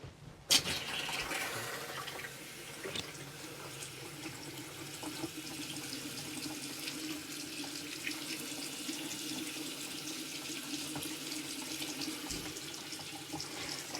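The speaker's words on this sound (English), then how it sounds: "Let's turn on the water." Water runs steadily from a tap in a vintage 1957 Airstream trailer, a continuous broadband hiss that starts abruptly and holds even and close for the whole span, with no talk over it.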